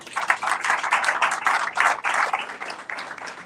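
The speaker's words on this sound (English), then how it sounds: "you deserve a round of applause for that" Brief round of clapping from a small group in a business meeting room, uneven bursts of hand claps swelling and fading over a few seconds with no talk.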